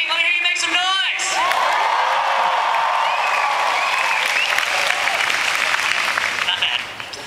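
Cheering and applause from a large crowd of incoming Harvard College first-year students at a 2013 class convocation, sustained and loud with whoops and shouts, fading near the end after a brief voice at the start.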